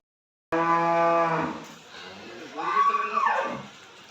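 A Holstein Friesian dairy cow, a 28-30 litre milker with a calf, gives one loud, close, drawn-out moo. Quieter voices and farm noise follow.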